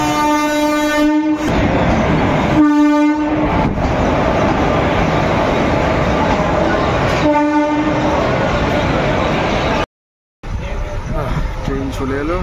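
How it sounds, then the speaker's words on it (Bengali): Sabarmati–Daulatabad passenger express arriving at a station: a rumbling rolling train with loud repeated horn blasts, clattering wheels, brief cut near the end, and a person talking over it. "ট্রেন চলে এলো"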